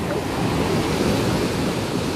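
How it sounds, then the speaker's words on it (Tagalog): Strong ocean waves roll onto a beach at Nasugbu in the Philippines, a continuous, close roar of surf mixed with wind rush and no clear breaks. "Ang lakas ng alon kaya dyan."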